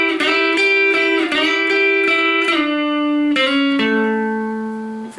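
Electric guitar plays a short blues lick of bent and sustained single notes, clean and close, ending on a ringing held note.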